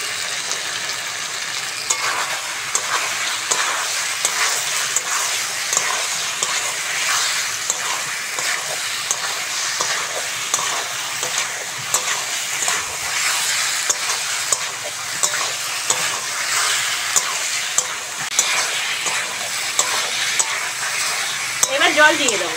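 Fried potatoes are stirred into ridge gourd masala frying in a pan, with a continuous bright sizzle and repeated scraping stir strokes throughout, close up and steady.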